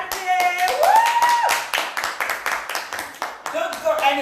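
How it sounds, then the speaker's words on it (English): Audience applause for a performer at a Culture Night event comes as crisp, close hand claps that start under a voice, then continue in an uneven patter. "So we will give a round of applause for Magvi."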